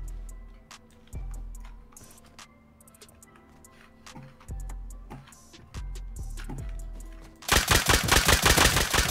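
Nail gun firing in the survival game Rust, sharp isolated clicks and thuds spaced irregularly, then a dense loud rapid burst of shots at the end.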